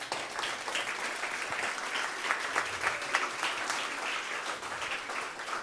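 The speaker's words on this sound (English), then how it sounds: "I think they deserve a big round of applause." A conference audience at the Danube Salon of the Europa-Forum Wachau 2023 gives steady, dense applause, with many hands clapping evenly for the whole stretch.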